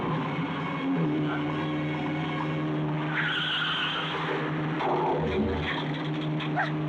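A car speeds along with tyres skidding and squealing, engine and road noise steady and close throughout, with a brief dog bark somewhere in the mix.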